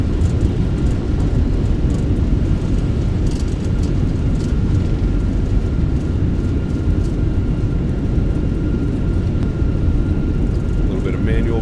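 Airbus A321 thrust reversers deploying on landing rollout in a flight simulator, a steady loud low roar of engine noise that holds throughout with no letup.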